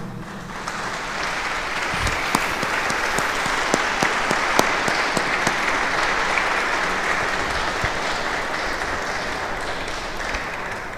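An audience at a lecture on the arrival of the Franciscans in Mexico applauds warmly for a long, steady stretch, many hands clapping together in a room.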